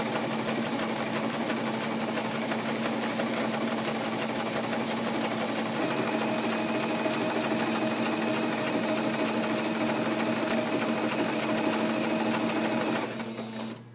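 A home sewing machine stitches a zigzag seam in one steady, fast, buzzing run of needle strokes, close by and alone, then stops abruptly near the end.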